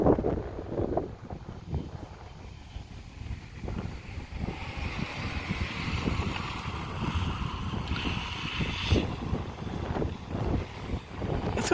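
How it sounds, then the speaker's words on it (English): Strong gusting wind during an afternoon thunderstorm, roaring steadily across the microphone for the whole stretch, with rumbling buffeting and a brief whistling rise partway through. "Oh shit, it's windy as hell!"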